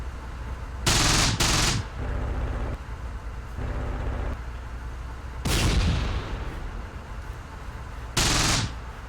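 Machine-gun fire from an airstrike in the Close Combat video game, loud bursts of rapid fire arriving in separate volleys with quieter gaps of engine-like rumble between them.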